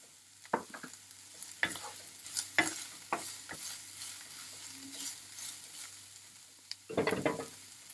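Meat sautéing with turmeric, red pepper and black pepper for stuffed eggplant, a quiet low sizzle broken by scattered clanks and scrapes of a utensil stirring in the pan, with a louder clatter near the end.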